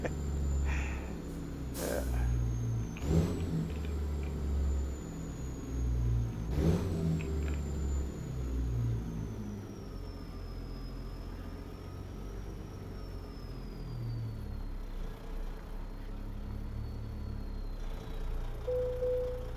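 A Peterbilt 389 logging truck in American Truck Simulator drones along with a deep, steady engine rumble, a few louder revving swells and a rising whine, hauling a load from Troy, Montana toward Colville, Washington.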